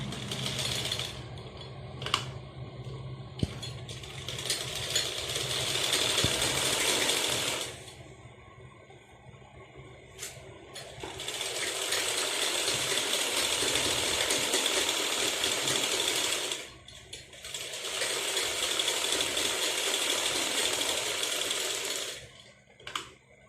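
A sewing machine stitches salwar fabric in three long runs of rapid, steady mechanical whirring, separated by short pauses with faint clicks.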